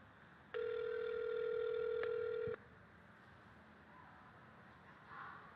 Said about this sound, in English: It's ringing. We can hear it ringing.